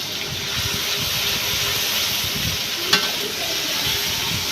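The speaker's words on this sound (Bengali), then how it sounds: "এখন এটার মধ্যে আদা রসুন বাটা দিতেছে" Ginger garlic paste sizzles steadily in hot oil with fried onions in a pan on a wood-fired stove, a loud continuous hiss with faint stirring scrapes and one brief clink.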